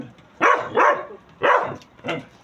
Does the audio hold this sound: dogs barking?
yes